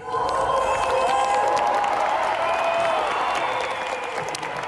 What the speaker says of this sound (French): Ces acclamations que vous entendez, ce sont celles d'une foule considérable qui s'est rassemblée hier soir à Prague.